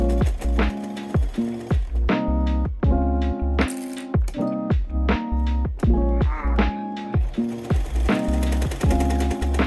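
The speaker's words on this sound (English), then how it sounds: "I feel really bad for my poor sewing machine. The noises." A home sewing machine stitching bias tape onto a Supergirl costume, loud close bursts of rapid mechanical clatter that start and stop repeatedly, with short pauses between runs.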